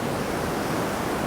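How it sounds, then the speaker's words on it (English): Rough ocean surf breaking on a beach, a dense, loud, unbroken roar of crashing water that fills the whole short stretch, with no voices. "Surf is super rough right now"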